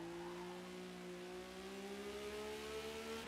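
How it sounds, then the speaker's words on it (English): A vintage Le Mans sportscar engine in Forza Motorsport holds a steady high-revving drone, its pitch climbing slowly and evenly for several seconds with no talk over it. "I'm hoping we can keep the revs up high enough here."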